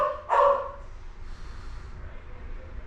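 A single short dog bark rings out near the start, followed by quiet room noise.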